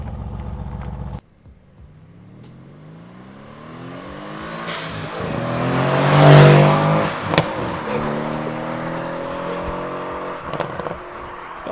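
Mercedes C63s AMG fitted with Weistec blow-off valves approaching and driving past, engine note rising to a loud peak as it nears, then fading with a few sharp pops as it moves away.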